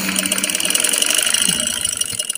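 Sewing machine stitching elastic onto a shalwar, running in a steady, fast mechanical whir with rhythmic rattling and a busy motor hum, loud and continuous with no talk over it.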